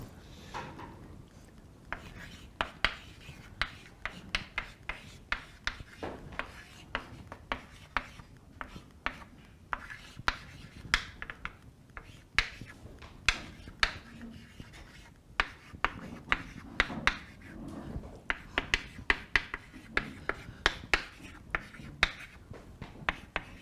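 Chalk or marker writing on a board during a mathematics lecture, with a quiet run of irregular taps, clicks and short scraping strokes, some faint and some sharper, over a soft room background.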